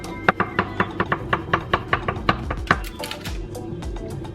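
A knife cuts through a pan of baked brownies, giving a quick regular series of sharp knocks and taps against the pan, about a dozen strokes in steady rhythm, then slowing to softer scrapes.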